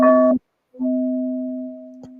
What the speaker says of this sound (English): This is a beautiful singing bowl that I have over here.